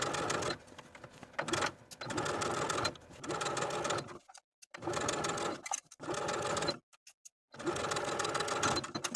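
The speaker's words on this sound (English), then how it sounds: "I'm going to take it to my sewing machine and stitch in the ditch of the main waistband seam" Sewing machine stitching in the ditch along the main waistband seam of a peplum skirt from a Simplicity 1697 pattern, running in several close, steady whirring bursts separated by brief stops and quiet pauses.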